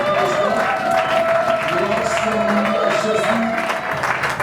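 A church congregation applauds and cheers together, a steady dense wash of clapping and crowd noise at even loudness throughout, with voices mixed in.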